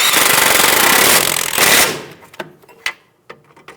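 A wrench snugs down a strut nut on a 2010-2014 Subaru Outback front strut: a loud, dense rattling burst lasting about two seconds, followed by scattered light clicks and taps.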